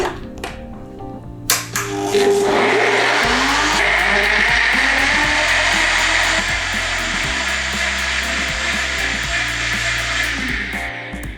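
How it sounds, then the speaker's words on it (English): A kitchen blender whirs loudly and steadily through melon, mint, brewed tea and a squeeze of lemon juice, starting after a couple of clunks and running continuously for several seconds before cutting off. "So I'm going to give this a good blend."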